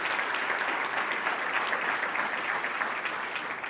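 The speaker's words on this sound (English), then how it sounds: "Applause up here" Sustained applause from an indoor audience, steady and dense from start to finish with no voices standing out.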